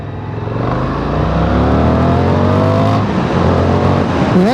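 A 2023 Indian FTR1200 motorcycle accelerates in second gear in standard mode, its engine note climbing steadily in pitch, loud and close, with a brief dip as the throttle eases before pulling again.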